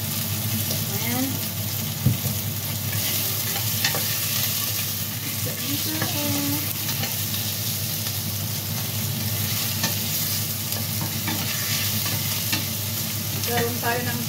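Minced pork sizzles steadily in a hot pan while being sautéed for pakbet, with occasional stirring scrapes and clinks over the constant frying hiss, close and continuous.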